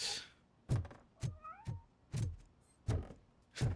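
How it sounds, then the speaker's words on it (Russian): A cat meows in the video game RoboCop: Rogue City, a short rising call in the middle amid several dull thuds spaced through the moment, fairly faint. "У меня сейчас у него мяуканье напоминает вот этого вот мемного кота, который мяу, мяу, мяу."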